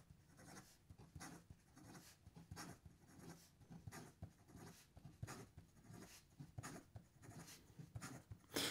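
A Taccia Miyabi Kaga fountain pen writing fast on paper, a quick run of close, faint nib scratches and strokes in an uneven rhythm, with no voices.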